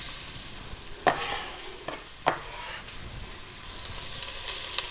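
Chopped onions hitting hot garlic-infused extra virgin olive oil for a lamb ragu, a steady close crackling sizzle punctuated by two sharper bursts as pieces drop in, with no talking.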